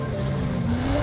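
A modern rally car in Forza Horizon 5 runs at steady high revs, its engine tone slowly rising in pitch, loud and close with no talk over it.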